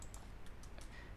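Keys clatter on a computer keyboard in short, irregular bursts of soft clicks, faint and close over a low background hum.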